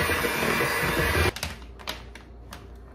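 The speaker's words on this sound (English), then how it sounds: "we're just going to mix it up just a little bit." An electric hand mixer runs steadily in a bowl of dessert batter for just over a second, then stops, leaving a few faint knocks and clatters.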